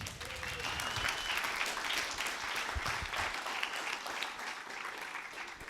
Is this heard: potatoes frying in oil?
no